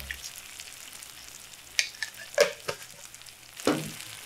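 Chicken cooking in a pan with chili powder and coriander powder being stirred in, a low soft sizzle with a few distinct scraping and clinking stir sounds standing out.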